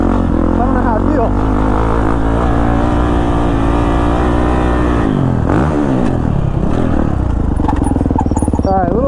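A Kawasaki KX450 dirt bike rides a tight, dry track, its engine droning loud and close with shifting revs and a brief throttle dip midway before climbing again, steady throughout.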